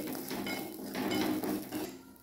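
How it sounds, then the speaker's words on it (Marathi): Poppy seeds roast in ghee in a pan with a continuous close sizzle and scraping stir, with metallic scrapes rising and falling over a couple of seconds and no voices. "त्याच्यामध्ये आपल्याला खसखस टाकून घ्यायचे, ते भाजून घ्यायचे"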